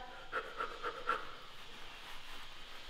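Rhythmic, breathy panting from a person recovering after jump squats in a leg workout, with several quick, evenly spaced breaths followed by softer, steadier breathing.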